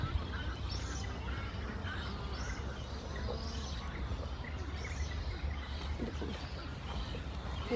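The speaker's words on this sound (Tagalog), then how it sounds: "Lapit tayo dito sa mga ibon na to." Ducks calling near water outdoors, several repeated quacking calls scattered over a steady low background rumble, moderately distant and faint with no clear talk over them.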